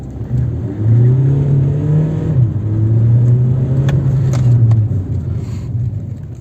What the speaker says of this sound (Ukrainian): Даю повний газ.